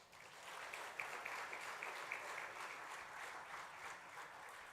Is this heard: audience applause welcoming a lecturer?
yes